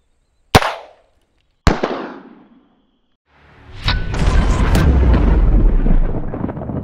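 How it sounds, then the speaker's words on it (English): Two sharp, isolated .22 caliber shots cracking loudly at close range during ballistic testing against a bullet-resistant backpack, each with a brief ringing decay, then a sustained rumbling, rushing noise. "Up first against the bullet-resistant backpack is going to be the 22."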